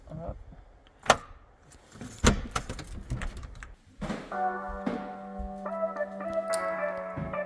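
Keys jingle and clink in a few sharp metallic bursts, then a steady humming tone with a higher whine takes over.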